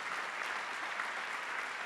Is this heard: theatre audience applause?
yes